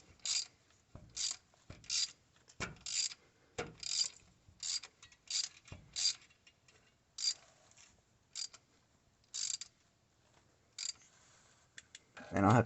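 A hand ratchet clicks in quick bursts of pawl ticks, close and crisp, as it tightens a 12mm bolt on a Melling oil pump in a 2003 Ford 6.0 Powerstroke diesel engine, with short pauses between strokes.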